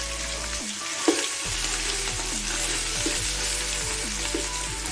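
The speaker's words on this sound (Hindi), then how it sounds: "अब इसमें लहसुन अदरक की पेस्ट डाल देंगे और इसे अच्छी तरह फ्राई करेंगे" Steady sizzling of garlic-ginger paste frying in a hot pan, a broad continuous hiss with occasional small pops and stirring scrapes, close up and fairly loud.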